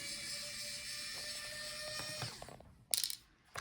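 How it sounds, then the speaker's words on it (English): Hand-held Phillips screwdriver turning the bottom screws out of an Asus Vivobook 17 F1704 laptop, giving a steady close ratcheting whir that stops, followed by a few sharp clicks and light clatter near the end. "I use regular Phillips screwdriver."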